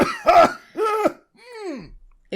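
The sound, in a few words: cough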